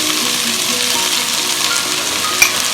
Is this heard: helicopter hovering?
no